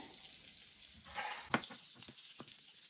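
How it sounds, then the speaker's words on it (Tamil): Fish frying in a hot uncovered pan, a quiet crackling sizzle with a few sharp pops and spits, one louder burst near the middle, and no talking. "மீன் மூடி விட தேவையில்லை கொஞ்சம் சூட்டில் பொரியட்டும்"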